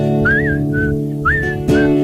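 Several short whistled notes, some sliding upward, repeat in a loose rhythm over a steady sustained musical background, near and clear.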